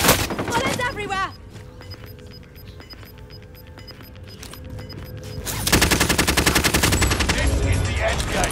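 Dense video game gunfire from a battle royale endgame, rapid automatic bursts crackling throughout, thinning briefly mid-clip then swelling loud and continuous near the end.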